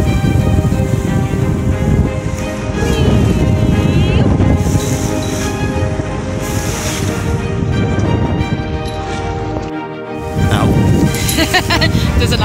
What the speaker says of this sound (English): The wind is picking up, the swell is picking up.